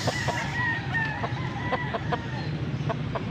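Rooster crowing among many quality gamefowl at a farm in Pampanga, a drawn-out cock-a-doodle-doo heard at moderate distance over a steady low background hum, with scattered clucks and clicks around it.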